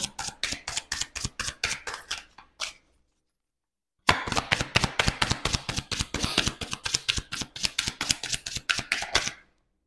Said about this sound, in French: J'en rajoute une carte.